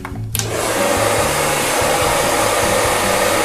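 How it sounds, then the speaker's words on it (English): A blow dryer starts with a click and then runs at a steady, loud roar close by while short hair is smoothed and straightened, with no talking over it. "So I'll use the blow dryer."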